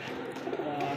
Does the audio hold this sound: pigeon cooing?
yes